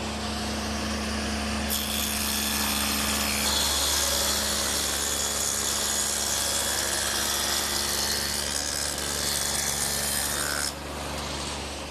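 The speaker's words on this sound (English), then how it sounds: "I've set up the saw with the dado head cutter again" A table saw fitted with a dado head cutter plows a groove through wood, giving a loud, continuous rasping whine that holds for several seconds before the cut ends and the motor keeps running, with no speech.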